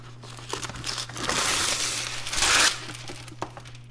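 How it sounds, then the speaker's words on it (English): A sheet of wax paper crinkling and rustling close up while gluten-free granola bars are prepared, building to a louder crackling burst before settling, over a low steady hum. "What I do next is take a sheet of wax paper."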